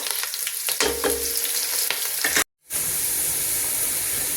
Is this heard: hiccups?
no